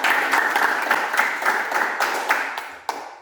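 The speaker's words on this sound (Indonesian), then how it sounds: "mari kita tepuk tangan untuk" Schoolchildren in a classroom applaud together during a computational-thinking lesson, a brisk, even burst of many hands clapping nearby that thins and fades out toward the end.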